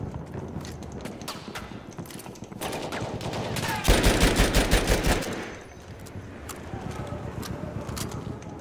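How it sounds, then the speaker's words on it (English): Rapid machine gun fire in the Battlefield 1 video game, a dense rattling burst swelling loudest midway amid other battlefield gunfire and clatter, with continuous shooting throughout. "Machine gun! One of them!"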